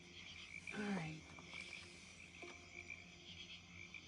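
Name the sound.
crickets chirping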